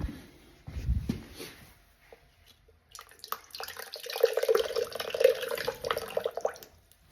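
Water runs out of a hot water tank being flushed, an uneven splashing trickle with drips that grows fuller in the second half, heard close with a few knocks at the start.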